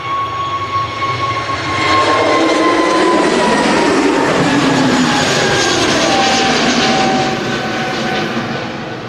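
British Airways airliner taking off from runway 23L at Manchester Airport in the early morning dark, a loud jet roar swelling within seconds and holding strong as the aircraft climbs away.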